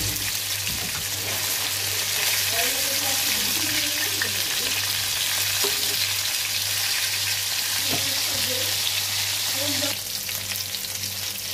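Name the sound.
fish frying in oil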